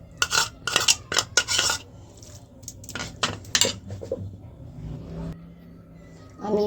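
Spices going into a cooking pot for mutton curry, heard as a run of metallic clanks and clatters from a utensil against the pot, quick and close, then quieter rustling and a low hum.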